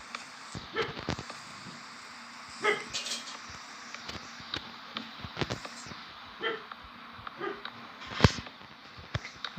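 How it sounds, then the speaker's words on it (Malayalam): A pet dog in the background gives scattered short yips, whimpers and sniffs at uneven intervals, fairly faint and distant against a quiet room. "എന്തിനോ കണ്ടേച്ച് ഞങ്ങളുടെ പട്ടി കുരയ്ക്കുന്നതാണ്."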